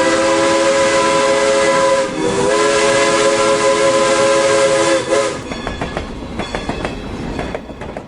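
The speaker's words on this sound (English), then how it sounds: "locals swear they can hear the train whistle echoing in the distance" Steam train whistle sounding in long, sustained harmonic blasts over a rumbling, hissing rail background, fading to distant rolling train noise at the end.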